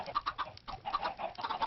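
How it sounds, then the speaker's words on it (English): Chickens in a Minecraft automatic chicken farm cluck in a quick, irregular series of short calls, moderately close and with no voices over them. "Over right now there's a lot of baby chickens."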